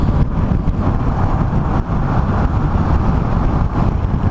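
Motorcycle cruising down a freeway, a loud steady engine drone blended with heavy wind rush against the rider's microphone, continuous and close, with no talking.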